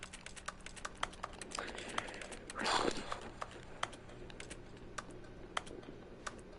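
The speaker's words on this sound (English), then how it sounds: "Why does it make the fucking keyboard clicking?" Rapid keyboard clicks from The Stanley Parable repeat in an uneven run of sharp, quiet taps, with a brief rustling swell partway through and no speech.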